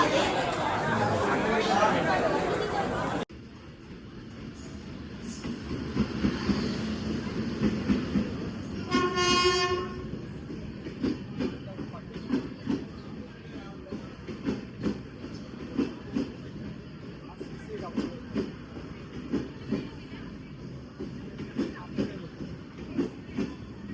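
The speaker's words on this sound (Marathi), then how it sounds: "मित्रांनो गाड्या सुटल्या" A train horn sounds briefly amid station noise on the Konkan line, followed by rhythmic clacking of a train pulling away, with people chattering in the background.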